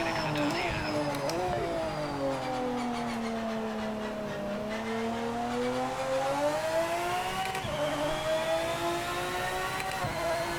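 A Lamborghini Murcielago's engine in Project Motor Racing, revving and pulling hard through the gears with rising and falling whine, continuous and loud, with a voice talking over it.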